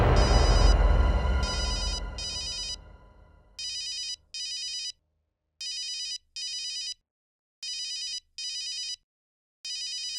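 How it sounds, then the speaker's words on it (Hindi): A telephone rings in short repeated electronic bursts, paired trills separated by silent gaps, clear and close, after a louder musical sting fades out at the start. "डॉक्टर नियति का फोन है, क्या करूं?"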